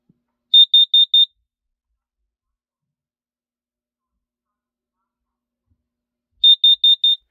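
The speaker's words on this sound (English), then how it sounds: "where we're gonna do the carbon monoxide detector" Vivint carbon monoxide detector alarm in a home storage room, sounding two separate bursts of four rapid high-pitched beeps, loud and close, with silence between them.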